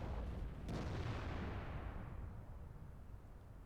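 A tank cannon in World of Tanks, fired from a Conqueror Gun Carrier, lets out one deep, heavy boom that rolls into a long, fading rumble.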